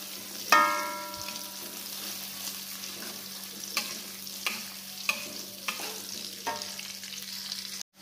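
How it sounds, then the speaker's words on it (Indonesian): Sliced onions fry in a pan while being stirred until fragrant and browned: a steady, moderate sizzle with a sharp spatula knock near the start and several lighter scrapes spaced through it, against a constant low hum. "Masukkan irisan bawang bombay, kita aduk sampai wangi, sampai berubah warna menjadi rada coklat"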